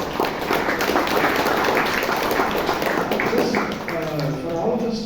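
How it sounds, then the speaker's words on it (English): Applause from a Toastmasters meeting audience, a moderate patter of hands over several seconds, with voices talking over it toward the end. "Shall we give Sudipto a great round of applause?"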